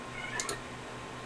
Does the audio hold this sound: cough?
no